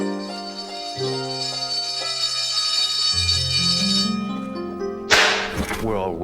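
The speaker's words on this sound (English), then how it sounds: "The bell has rung." In an animated film, a school bell chimes as a run of clear, ringing tones stepping down and then up in pitch. A sharp, bright burst closes the sequence.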